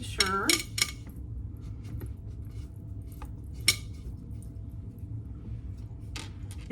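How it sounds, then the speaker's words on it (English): A spatula scrapes around a mixing bowl holding very sticky paczki dough, giving a few close, brief clinks and scrapes early, then sparse light taps over a low steady hum. "I'm going to stop it and scrape down the sides of the bowl once more"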